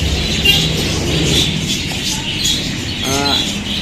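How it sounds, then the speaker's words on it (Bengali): Colorful budgerigars chirping in a busy bird shop, scattered short tweets and trills over steady background chatter and room noise. "এখানে অনেক অনেক সুন্দর কালারফুল যে বাজারিকা পাখি"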